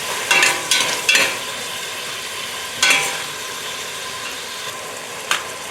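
Onion softens in a pan for a yellow curry potato soup with salmon, making a steady moderate sizzle close by, broken by a few brief scraping stirs near the start and middle, with no speech.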